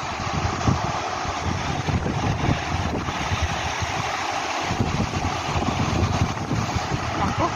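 Rough sea waves and gusting wind batter a small fishing boat at sea in a dense, continuous roar of water and wind buffeting close to the microphone.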